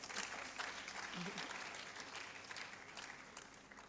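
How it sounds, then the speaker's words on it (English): Audience applause at a book launch for Prof. Sheena, a steady patter of many hands clapping that fills the whole stretch at moderate level, with faint voices mixed in. "Let's give her a round of applause"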